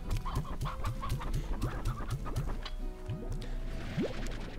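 Chickens cluck in the game Slime Rancher, a steady run of quick, soft clucks with a few higher squawks, faint and continuous against a quiet background.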